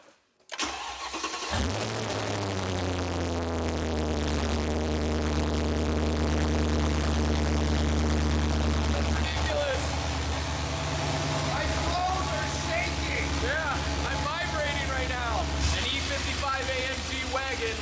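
A Whipple-supercharged Mercedes E55 wagon engine cranks and fires up, then roars loudly through open exhaust headers, idling rough and revving with a harsh, booming rumble.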